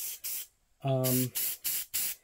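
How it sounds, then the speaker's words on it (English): Aerosol spray paint hisses onto a Phantom of the Opera style mask in short bursts: two quick sprays, a brief voice, then four more even puffs in a steady rhythm, close and fairly loud. "you want to spray a bit here, so just under the cheek."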